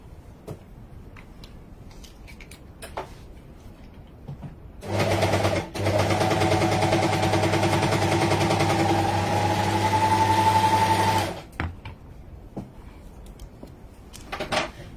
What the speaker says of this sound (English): Right, and now we're going to sew along the edge here.